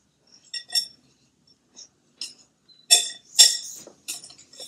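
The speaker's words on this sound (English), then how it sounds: "Next, we mix." A spoon or whisk scrapes and clinks against a bowl while mixing dry baking ingredients with baking powder, a few sparse, light metallic taps and scrapes, close and fairly quiet without talking.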